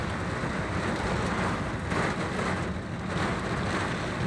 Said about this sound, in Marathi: प्रचंड असं वारळ वादळ आणि जोरदार पाऊस होताना आपल्याला पाहायला मिळतोय